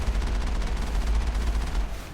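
Heavy defense cannon fire in Mass Effect at a mercenary base, a dense, continuous barrage of booming low-end blasts that rolls on steadily and loudly throughout.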